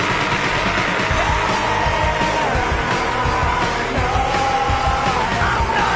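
A recorded Korn single teaser plays loudly, heavy music carrying a raw, sustained scream over pounding low-end rhythm.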